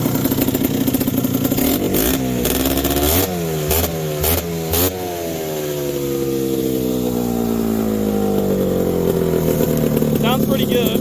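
A 1998 Scrambler 400 4x4 quad with a K&N air filter and stock carburetor idles nearby, is revved hard in several quick blips, then settles back to a steady idle.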